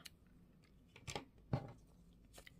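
Scissors cutting crochet yarn, two or three quiet, crisp snips close by in near silence.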